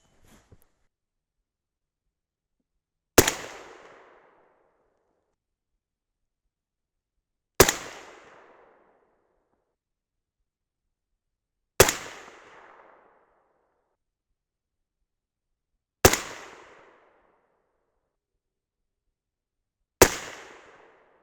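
Five sharp, loud 6.5 Grendel rifle shots firing 135-grain Berger Classic Hunter loads, each a single crack with a short fading echo, spaced several seconds apart in otherwise silent surroundings.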